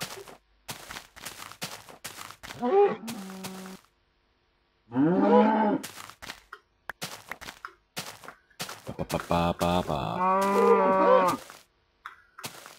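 Cows mooing in the Minecraft video game, several long, drawn-out moos heard loud and close, with brief clicks and bursts of game noise between them.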